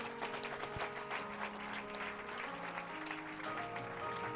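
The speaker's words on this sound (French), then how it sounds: "Est-ce qu'on peut acclamer fortement le Seigneur Jésus?" A church congregation applauding and acclaiming the Lord Jesus, a steady, fairly faint patter of clapping over sustained music-like tones, without clear speech.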